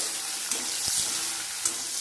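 Steady sizzling of shallots and drumstick pieces sautéing in a pan, with a few soft stirring knocks.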